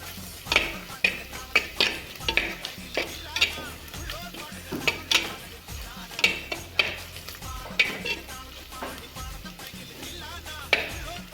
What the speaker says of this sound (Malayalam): കാൽ ടീസ്പൂൺ മഞ്ഞൾപ്പൊടി രണ്ട് ടേബിൾ സ്പൂൺ മല്ലിപ്പൊടി നന്നായി ഇളക്കി കൊടുക്കുക